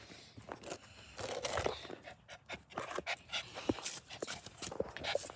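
A dog pants rapidly close by while crunching and chewing something, with wet breaths, bites and occasional snuffles in an uneven rhythm and no talking.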